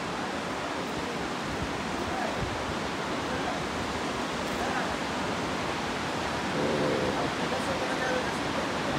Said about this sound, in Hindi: जो पानी की आवाज़ लिटरली आपको बहुत ज़्यादा अट्रैक्ट करती है